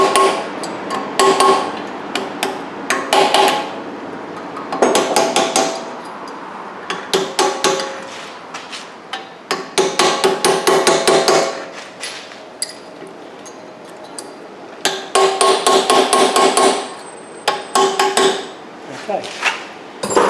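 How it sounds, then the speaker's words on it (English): A hammer taps a hub bearing into place on a 2010 Honda Accord, sharp metal taps in quick clustered bursts, pausing between rounds, close and ringing. "I'll take a hammer and just tap it to make sure that it's popped in"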